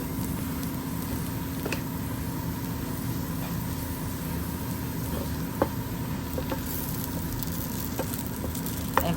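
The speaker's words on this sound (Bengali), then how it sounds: "এখন সেই পাতিলেই আমি একটু রসুন কুচি দিয়ে দিচ্ছি, সাথে কয়েকটা কাঁচামরিচও দিয়ে দেব, দিয়ে আমি ভেজে নেব।" Chopped garlic and a few green chillies fry in a pot with a soft, continuous sizzle, broken now and then by faint pops and clicks of stirring.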